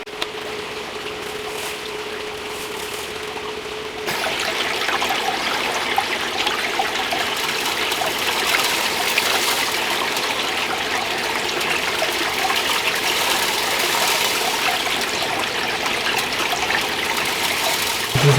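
Water runs steadily through a gold sluice while tailings pour into a bucket, a close, continuous rushing gush that rises sharply after a quieter opening few seconds.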